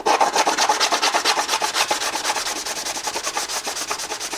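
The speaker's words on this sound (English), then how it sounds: "So I just have a little sanding block." A sanding block made of sandpaper glued onto flat wood rubs back and forth across a plastic motorcycle sidepad in fast, even strokes, a loud rhythmic rasp up close with no talking.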